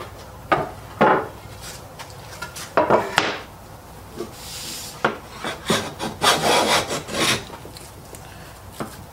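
A hand plane fitted with a 55 degree high angle frog, a Stanley No. 4 type, taking shavings off walnut: a series of separate rasping strokes, some short and some longer, close and fairly crisp, with brief pauses between them.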